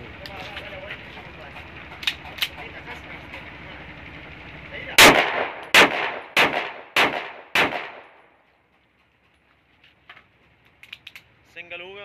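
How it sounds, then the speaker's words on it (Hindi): A Beretta-style .30 bore pistol is test-fired: two faint shots over someone talking, then a loud close string of five sharp reports in quick succession, followed by quiet with a few small clicks. "देख लें सिंगल फायर भी किया और ब्रस्ट फायर भी किया है ना"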